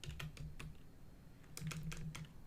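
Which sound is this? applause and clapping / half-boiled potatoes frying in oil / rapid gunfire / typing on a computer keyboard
typing on a computer keyboard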